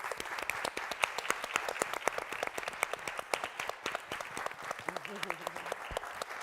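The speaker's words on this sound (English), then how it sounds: "please give her a round of applause" An audience claps steadily for Dr. Marta Moreno Vega at an Afro-Latino evening event, dense rapid applause throughout, with a brief voice near the end.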